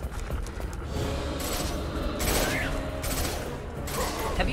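Heavy gunfire in the video game Mass Effect 2 roars as a dense, continuous barrage of shots and blasts, loud and close, with little break.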